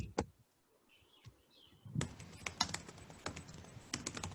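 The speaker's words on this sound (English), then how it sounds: "I can hear a lot of typing" Computer keyboard typing during an online book discussion, a rapid irregular patter of key clicks that grows busier in the second half, with faint chirps earlier and no talk.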